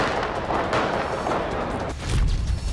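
Gunfire during a terrorist attack on streets, bars and restaurants in Vienna, heard as a dense, rough burst of cracking shots with a heavier boom near the end, fairly loud and without speech.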